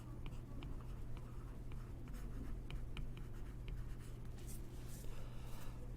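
Verbs for a sentence diagram are written out by hand as faint, quiet scratchy strokes in short repeated bursts.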